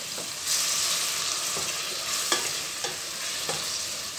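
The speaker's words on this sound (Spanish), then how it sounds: "una vez que está caliente, le vamos a añadir la cebolla y el puerro" Chopped onion and leek hit hot oil in a pan over medium-high heat, giving a loud steady sizzle with a few sharp stirring scrapes and clacks scattered through it.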